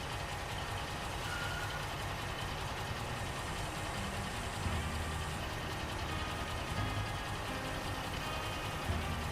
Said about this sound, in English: just make the engine a bit louder